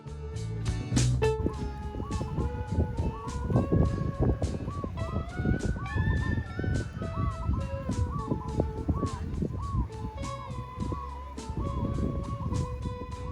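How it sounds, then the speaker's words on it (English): Many kinds of birds feed by a lake in Hawaii, calling and honking in a busy, overlapping chorus of repeated sharp notes and tonal cries that continues steadily, fairly close, with no talk. "Many kinds of birds are looking for something to eat."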